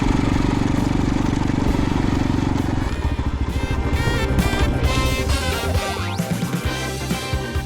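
X-Pro Storm 150 DLX, a cheap 150cc dual sport motorcycle, running on a first ride: a loud, close engine drone that shifts pitch and rhythm partway through as the bike moves off and revs.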